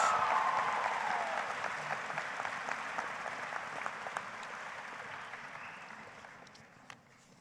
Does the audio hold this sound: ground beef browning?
no